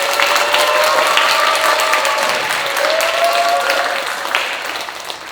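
An audience at a talk event claps for an author, a dense burst of applause that stays loud and then gradually thins out, with a voice briefly audible beneath.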